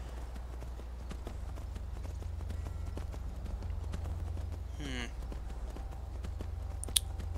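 Horse hooves clip-clopping in the Skyrim video game, a steady walking rhythm under a low background hum, with a brief whoosh and a click partway through.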